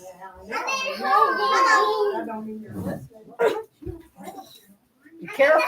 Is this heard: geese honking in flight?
no